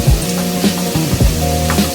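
Chopped cabbage hits a hot pan of fried rice with lightly cooked carrot. It hisses steadily while a spatula scrapes and knocks through it in four quick, close stirs.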